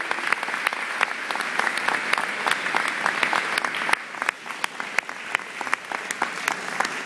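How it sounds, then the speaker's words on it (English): Audience applause for student ensembles at a scholarship awards concert, a crowd clapping steadily with sharp, distinct claps close by, dipping briefly midway and then continuing. "I think they deserve a great big round of applause"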